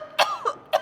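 A storyteller's voice imitates a whale coughing in a children's tale, giving three short, close, harsh coughs in under a second.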